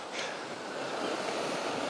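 Sea surf at Saltwick Bay runs in among the rocks, a steady broadband wash of water with light wind noise, close and continuous with no talk.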